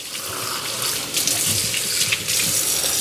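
Tap water gushes steadily while a Bissell CrossWave OmniForce cordless wet-dry mop's screen filter is rinsed, a close, continuous splashing flow with slight surges and no talking.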